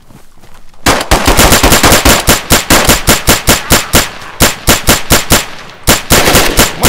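Loud, close automatic gunfire from a weapon in DayZ, a rapid run of sharp cracks after a brief quiet start, broken by a few short pauses between bursts.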